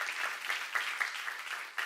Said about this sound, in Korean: 본 사람만 박수 하세요